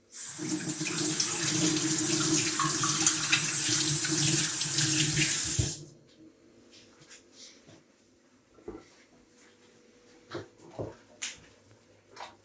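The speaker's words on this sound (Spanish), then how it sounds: "Me voy a lavar las manos un segundo." A kitchen tap runs hard for several seconds while hands are washed under it during a traditional cooking session, then cuts off, leaving faint clinks and a quiet room.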